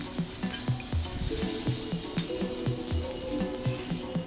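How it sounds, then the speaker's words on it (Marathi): Ten to twelve green chillies roasting in oil for village-style thecha, a bright steady sizzle with rhythmic low knocking pulses repeating about twice a second, close and loud, no speech. "मी दहा ते बारा हिरवी मिरची घेतलेली आहे तेल टाकून अशा प्रकारे भाजून घ्यायची"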